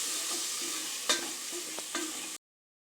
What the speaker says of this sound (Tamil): இப்போ இது நல்லா கொஞ்சம் வதங்கட்டும்.